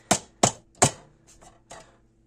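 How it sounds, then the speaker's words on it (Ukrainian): Sharp plastic clacks as egg trays are set into a Teplusha incubator, three crisp knocks in quick succession followed by a couple of softer taps, close and fairly loud. "Ось так лоточки встановлюються."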